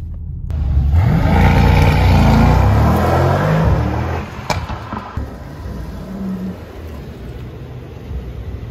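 A Mercedes-AMG E63 S wagon's V8 revving hard up close, a loud rising roar that holds for a few seconds and then drops off to a quieter burble and idle.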